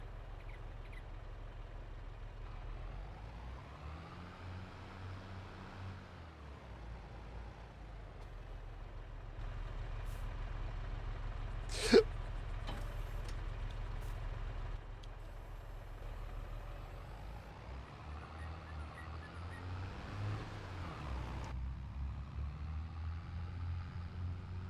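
A vehicle drives in Farming Simulator 22 with a steady low engine drone that holds across the whole stretch, with one sharp brief click near the middle.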